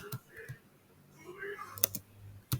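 Computer keyboard keys tapped during a Linux terminal session while typing a touch command, a few scattered clicks and a short burst near the end, faint under a voice.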